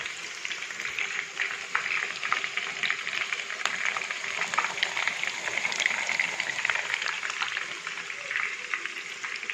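Chicken 65 pieces frying in hot oil over a slow flame, a steady close bubbling sizzle with crackling pops that continues throughout, with a voice talking over it.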